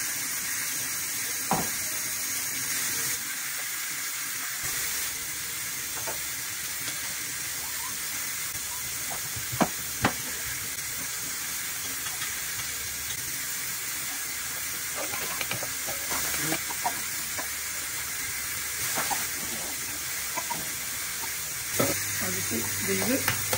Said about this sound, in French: les pommes de terre qui sont toujours en train de cuire